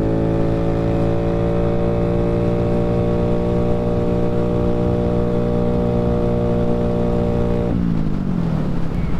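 A 2022 Honda Grom motorcycle fitted with a DHM cam pulls hard in fifth gear, its engine note rising steadily and loud up close before easing off near the end, with no talk over it.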